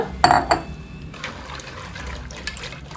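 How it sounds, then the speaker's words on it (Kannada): Water pours into a pressure cooker holding kidney beans, starting with a couple of sharp metallic clinks and splashes and then settling into a softer, continuous liquid flow. "ಒಂದು 2 ಕಪ್ಪಷ್ಟು ನೀರು ಹಾಕೊಳ್ಬೇಕು"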